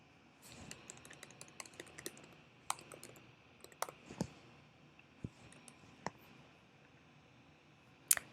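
A computer mouse clicks sparsely in a quiet room, with short crisp clicks and a few small bursts of keyboard tapping spread across several seconds, close and fairly faint.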